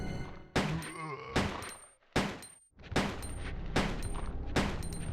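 Repeated bursts of gunfire from Resident Evil 2 (1998), with Leon firing about six loud, sharp shots, each followed by a short ringing decay, spaced roughly evenly with brief gaps between them.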